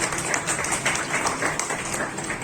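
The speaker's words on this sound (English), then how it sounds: "A big round of applause for him." Applause from a school audience at an Independence Day prize ceremony, a fairly loud, sustained patter of many hands, steady and unbroken for a couple of seconds.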